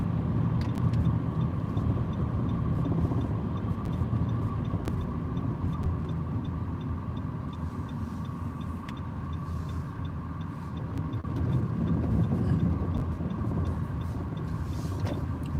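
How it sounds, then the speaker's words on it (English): A car pulls out onto a road, heard as steady engine and tyre rumble from inside a vehicle, with a continuous low drone throughout and no talking. "See where this car's pulling out?"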